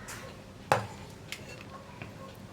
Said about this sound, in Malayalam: അപ്പോൾ ഞാനൊരു കുക്കർ എടുക്കട്ടെ.